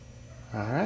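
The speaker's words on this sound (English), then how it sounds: "You can hear my kids screaming in the background." Children scream and shriek loudly from the background of a garage or workshop during a Ford Mustang convertible rear speaker replacement, a high wavering cry rising over low ambient hum in the last half second.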